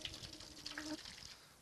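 Liquid trickling and splashing into a pan during cooking, a soft, fairly faint pour lasting about a second before tapering off, with no talking.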